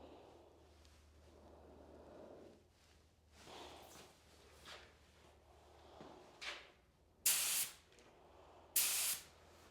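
Short hissing bursts of an Iwata LPH80 paint spray gun spraying onto paper, faint at first, then two loud, sharp sprays close by, separated by quiet pauses.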